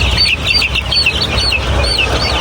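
Andijan black chicken chicks in a batch being readied for delivery, a crowd of high, rapid peeping chirps repeating close up and loud over a low rumbling background, with no voices.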